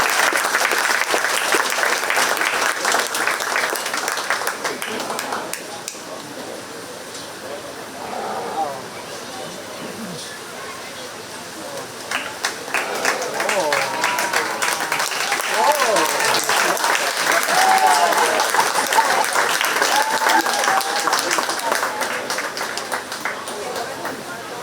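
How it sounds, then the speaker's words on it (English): Audience at a county fair 4-H sheep show applauding the winners: sustained crowd clapping, fairly loud and close, dipping midway then swelling again, with a voice speaking over it and some faint animal and background noise. "One last time, give them a round of applause."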